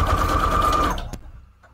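Sewing machine stitching a straight seam through scrap paper, a fast rattling hum for about a second that stops abruptly, leaving quiet.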